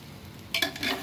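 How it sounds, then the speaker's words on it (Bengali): Moong dal frying and being stirred in a pressure cooker while vegetable khichuri is cooked, with quiet scraping that gives way to a louder burst of sizzling and stirring noise partway through. "মুগ ডাল একটু ভাজা হলে ভালো লাগে"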